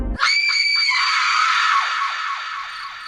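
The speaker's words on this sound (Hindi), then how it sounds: "इशिता की चीख कब्रिस्तान में गूंज गई" A woman's long, piercing scream rings out loud and close in a graveyard as a horror-story effect, then trails off into a fading echo over about three seconds.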